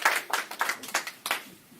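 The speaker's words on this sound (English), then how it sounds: "I want to give a round of applause for everybody in this room" Applause from an audience in a room at a talk on homelessness, a short, thin burst of scattered clapping that fades within two seconds.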